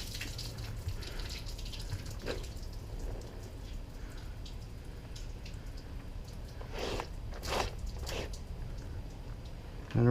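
Cold water rinses over a stained glass piece during patina work, a steady broad wash of splashing and spattering with a few louder gushes, fairly close and continuous.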